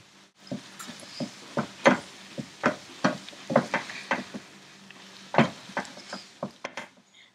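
Cilantro and salt are stirred into a cranberry vegetable mixture in a pan, with a utensil scraping and knocking in a steady series of short strokes and a faint sizzle underneath.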